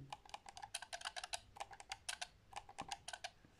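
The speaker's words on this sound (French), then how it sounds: "On dirait un peu un clavier mécanique." Crisp, rapid clicks from the trigger stops of a PS4 gaming controller, snapping like mechanical keyboard keys in close, uneven bursts with short pauses, no voices.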